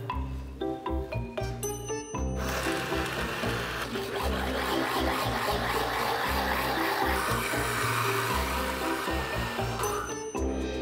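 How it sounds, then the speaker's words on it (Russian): A blender whirs steadily while mixing food in a video game, preceded by a few seconds of clicking game effects and music, then running as a dense continuous grind. "смешать в блендере продукты и залить в банки"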